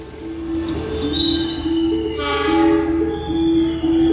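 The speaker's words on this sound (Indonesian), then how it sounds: "Persiapan di jalur 5 akan masuk kereta api Lodaya yang akan mengantarkan saya dari Yogyakarta menuju Bandung." Lodaya passenger train pulling into platform 5 at Yogyakarta station, sustained steady horn tones over a loud rumbling roll of wheels and carriages, close and continuous.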